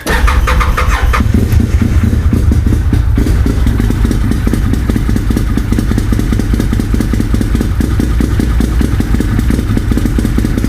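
An Arctic Cat Wildcat engine, a 2013 model, running loud and close after fuel pump work, a steady rumbling idle with a rapid rhythmic chug throughout and no voices.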